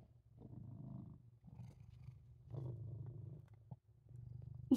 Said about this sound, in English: Oh, you're purring so loud!